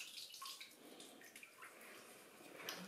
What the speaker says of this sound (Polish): odcieka woda